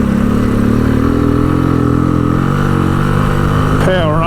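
A motorcycle engine drones loud and steady as it climbs gravel hills off-road in the bush, its pitch rising slightly, with a brief shift in tone near the end.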